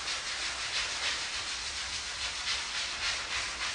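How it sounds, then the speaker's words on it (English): A power sander runs steadily over a chalk-painted wooden bar stool, giving off a constant, even hiss with a faint rhythmic pulsing and no speech. "So you can just go over it with your sander"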